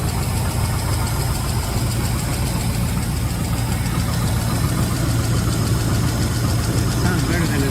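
A 1956 Ford engine idles steadily after being fitted with a new carburetor, filter, fuel line, gasket and electric choke, a continuous close rumble with a faint rhythmic knock and some voices underneath.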